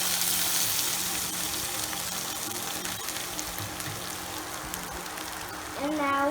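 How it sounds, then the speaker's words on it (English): Lemon juice and poha go into a hot pan with green chili, sizzling and frying steadily at close range, with a brief stir near the end. "So now we're gonna add lemon juice, and now the poha."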